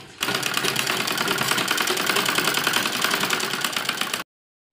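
A sewing machine runs a long basting stitch on a net lehenga blouse, a loud, close, continuous buzzing hum with a fast even rattle, holding steady for about four seconds before cutting off abruptly.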